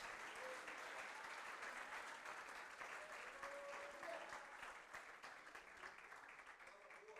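A church congregation applauds steadily throughout, a dense wash of clapping at moderate distance, with a faint voice or tone briefly audible underneath.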